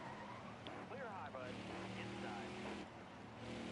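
A race car in a NASCAR racing video game at Martinsville whines and squeals with shifting engine tones under continuous background noise, while people talk over it.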